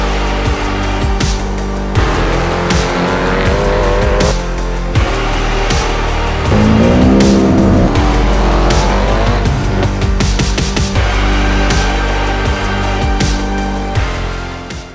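An S5000 race car driving on a circuit, a loud close engine roaring and shifting pitch as it revs, with tyres squealing and skidding through corners, continuous throughout.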